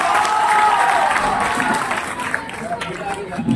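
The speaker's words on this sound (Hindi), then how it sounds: "आपकी जोरदार तालियों के साथ" Loud applause from an audience at a Teacher's Day celebration at a school, dense steady clapping with crowd noise and some voices mixed in, fading slightly toward the end.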